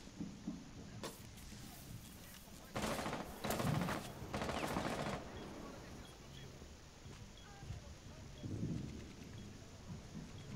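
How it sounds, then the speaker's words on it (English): Distant gunfire rings out in Rainbow Six Siege on the Favela map, a few muffled bursts of long-range shots over a low game ambience, fairly faint and spread through the passage. "He's shooting from long range."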